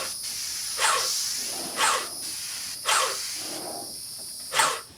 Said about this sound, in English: It's actually spraying a much nicer pattern now, and it's not clogging up in between as much.